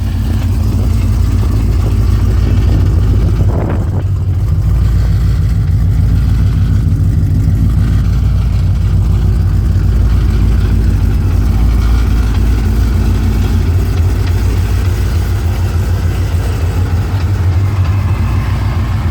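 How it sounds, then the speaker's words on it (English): A 2007–2010 Ford Mustang Shelby GT500 fitted with L&M NSR cams idles with a lumpy, choppy rhythm. The deep engine rumble is loud, close and steady throughout, with no other sounds. "A lot of you guys want to hear the cam chop from the L&M NSRs."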